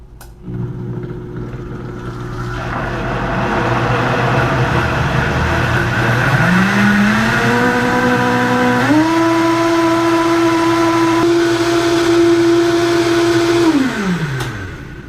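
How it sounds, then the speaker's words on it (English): A blender whirs through a dry turmeric tea mix with cinnamon. The motor spins up, its whine rises in pitch and then holds as a loud, steady drone before winding down near the end. "now we just want to blend it all together until it's even and smooth"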